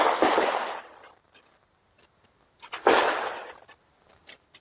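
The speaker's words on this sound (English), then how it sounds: "captures audio taken the moment the gunshots were fired" Two sharp bursts spaced a few seconds apart, each ringing out and decaying, followed by fainter scattered pops; sounds like distant gunshots recorded outdoors.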